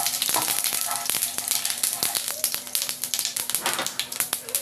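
Cumin seeds frying in hot oil in a kadai, sharp rapid pops and crackles over a hissing sizzle, close and busy, with a voice speaking faintly beneath.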